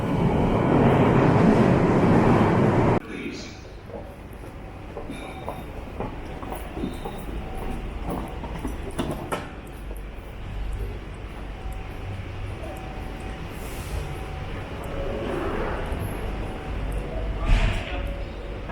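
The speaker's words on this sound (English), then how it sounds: "this is the little train line from Bank Station to Waterloo Station" A London Underground Waterloo & City line train between Bank and Waterloo roars loudly, then settles into a steady rattling run with faint clicks and squeals.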